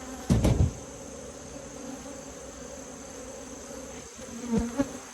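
Honey bees buzz in an opened hive during a fall beekeeping inspection, a steady close droning hum with a couple of brief louder bursts as bees fly near, no talking.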